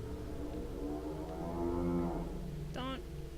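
Cow-like creatures in a video game give low, drawn-out mooing calls with a gliding pitch, ending in a shorter, higher bellow, over a steady background hum.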